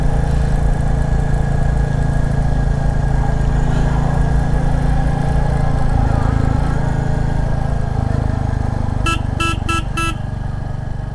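A Royal Enfield Classic 350 motorcycle rumbles steadily while being ridden, a loud, constant low engine drone with road and wind noise, and a horn beeps four times in quick succession near the end.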